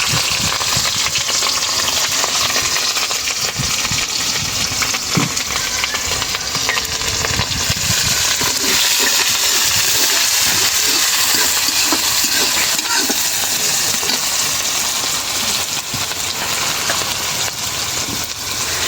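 Onions and green chillies fry in a pan for a home-style chicken curry, giving a steady, loud, close sizzle with scattered crackles and pops, unbroken throughout.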